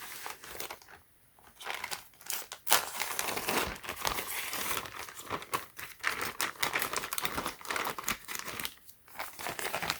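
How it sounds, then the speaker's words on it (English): Cutting open the packaging on an unboxing of Samsung Note 20 phones, heard as close, crinkly plastic and paper rustling with sharp tearing and scraping strokes, loud and continuous with a few brief pauses. "I'm just gonna cut out the opening right here."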